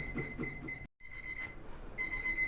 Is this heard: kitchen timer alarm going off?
yes